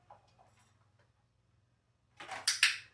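A puppy's crate door swinging shut, a short metallic rattle and clunk near the end of the moment, preceded by faint ticks in an otherwise quiet room.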